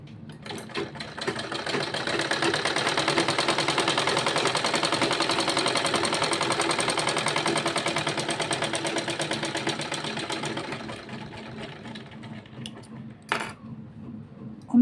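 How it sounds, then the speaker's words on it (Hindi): A sewing machine stitches a small child's kurta, whirring rapidly and evenly up close for about ten seconds before slowing and stopping, followed by a few soft handling clicks. "फिर दोबारा फोल्ड करके सिलाई चलानी है।"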